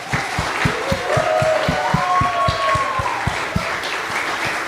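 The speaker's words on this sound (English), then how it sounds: "so let's give them a round of applause" An audience applauds students at a winter music recital, with steady, loud clapping from a crowded room and a faint tonal sound drifting over the rhythmic claps, briefly joined by a few voices.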